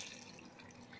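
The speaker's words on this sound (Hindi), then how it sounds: "अब हम इसमें पानी डालेंगे।" Water pours into a pan of well-fried chicken to start a gravy, a soft steady splash and sizzle at low level with no voices over it.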